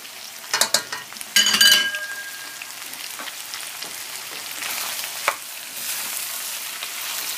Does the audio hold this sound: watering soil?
no